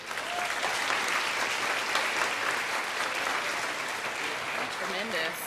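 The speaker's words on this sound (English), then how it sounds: "Let's give them another round of applause." Steady, dense applause from a convocation audience fills the whole stretch at moderate loudness, with a voice briefly audible over it.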